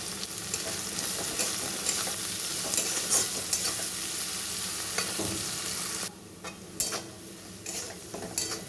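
Capsicum and mixed vegetables stir-fry in a pan with a steady sizzle, broken by irregular scrapes and clicks of a spatula stirring. The sizzle dips briefly near the end before a few more stirring knocks. No one speaks.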